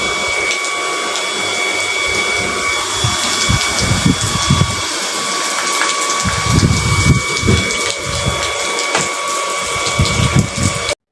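A water pump runs with a loud, steady mechanical hum and whine while water gushes out in uneven surging bursts, close by and with no talk over it.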